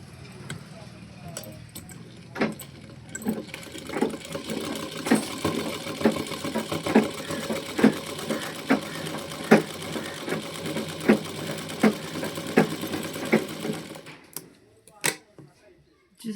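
A sewing machine stitches a line along a blouse sleeve, its quick needle clatter running steadily and close for most of the stretch before stopping, with someone talking over it.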